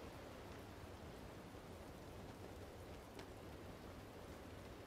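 Steady rain in the video game Batman Arkham Asylum, outdoors on Arkham Island, a constant faint wash of falling water with no other sounds.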